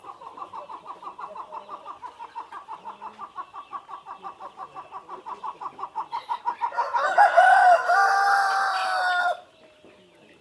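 Chickens at a poultry farm beside an egg house cluck in a steady rhythmic pulse that grows louder, then break into a loud, drawn-out crow near the end.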